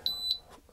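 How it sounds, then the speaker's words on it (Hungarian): A 3000W pure sine wave 12V-to-230V inverter beeps twice in quick, shrill tones while signaling an output fault. "most csipog is, és azt írja ki, hogy"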